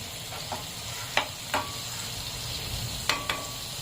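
Fish frying in oil over a low flame, a steady close sizzle with a few sharp metallic taps of a utensil against the pan scattered throughout.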